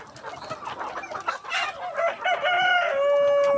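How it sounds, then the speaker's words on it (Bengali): Chickens at a small home poultry setup, loud close clucking building into a drawn-out rooster crow at the end, with no talk. "ওই বড় মুরগি আছে ওই বাড়ে"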